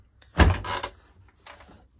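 A washing machine door with a slightly loose hinge is handled, giving a solid thunk followed by a softer latch sound, close up and with no voices.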